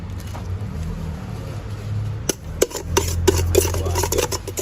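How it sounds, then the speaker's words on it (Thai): Sticky rice being dry-roasted in a pan for a Thai pla ra broth, stirred with scraping, rasping strokes over a low steady hum, with sharper scrapes and clinks growing denser in the second half. "คั่วข้าวคัวให้มันหอมครับพี่น้อง"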